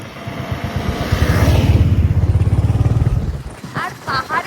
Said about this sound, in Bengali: আর ওই একটা গাড়ি আসছে।